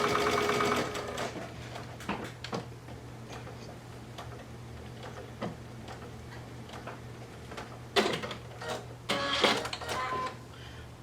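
A sewing machine stitches a curved pocket piece with white thread and a half-inch seam allowance, running in short, ticking bursts near at hand, with a louder flurry of stitching toward the end.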